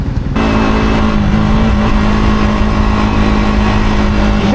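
A bike taxi motorbike engine runs loud and close in a steady, continuous drone with a constant tonal hum, with no talk over it.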